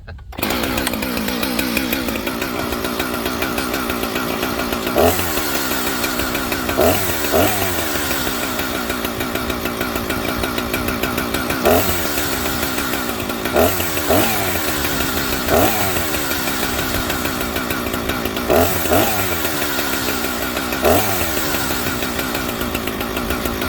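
A two-stroke chainsaw engine runs steadily near and loud, with a rough buzzing idle and brief periodic surges in revs throughout.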